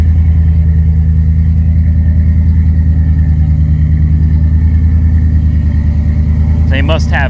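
A Hemi V8 in a pickup truck, exhaust apparently dumped underneath, rumbles loud and steady up close at a deep, even idle the whole time, with a brief sharper noise near the end.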